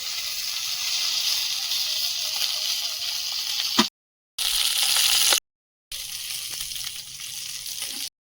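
Pieces of bhola fish fry in oil in a pan, a steady close sizzling hiss that cuts off twice in brief gaps before resuming.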